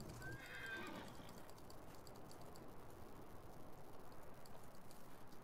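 A horse whinnies once near the start in Farming Simulator 19, a brief high neigh that fades into a faint steady rain-like background hiss.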